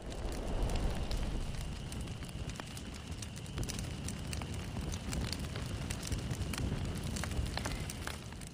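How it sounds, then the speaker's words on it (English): A slow-motion explosion in the video game Far Cry 3: a sustained, roaring blast with rumbling crackle that stays loud and steady throughout, scattered sharp pops and debris-like crackles on top. "slow motion explosion"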